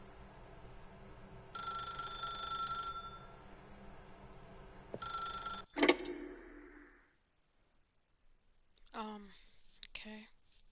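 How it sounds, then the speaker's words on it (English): A telephone rings in The Stanley Parable video game, two bursts of bright bell ringing followed by a clunk as the receiver is picked up, then a short stretch of speech. "then pick up the phone."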